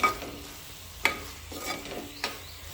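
Kanthari chicken curry stirred in a pan after coconut oil is added, with a faint steady sizzle and a few sharp scraping clicks of the spoon against the pan.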